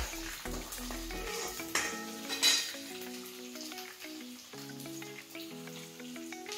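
Onion goes into a hot pan for restaurant-style paneer chilli, followed by crackling frying and sizzling with a few utensil clinks, while background music plays softly underneath.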